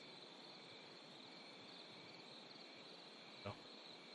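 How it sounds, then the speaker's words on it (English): Crickets chirp steadily through a nighttime forest in a paranormal investigation video game, a faint, even insect drone with one brief click partway through. "I hear crickets, but that's just normal."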